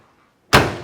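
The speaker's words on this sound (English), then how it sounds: "Doors shut real nice, real solid." A single solid door of a 1970 Chevrolet Chevelle SS-style car thunks shut after a moment of near silence, close and loud, with a short dull decay.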